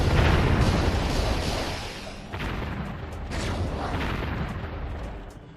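Heavy booming blasts and rumbling explosions roll continuously, rockets and cannon fire in a loud Warzone 2100 battle, with no talking.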